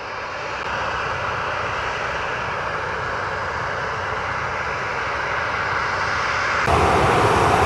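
An airliner jet taking off from runway 07 at Montego Bay, Jamaica, a steady loud engine roar building gradually and swelling sharply near the end as thrust rises.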